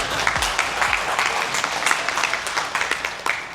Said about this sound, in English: You can clap for your mom, it's okay.